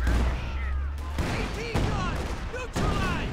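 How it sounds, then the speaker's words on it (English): A Katyusha rocket artillery barrage in Company of Heroes 2, heard as a series of loud booming impacts and crackling blasts over a low rumble, with a voice talking over them throughout. "Thanks to that monstrous Katyusha barrage."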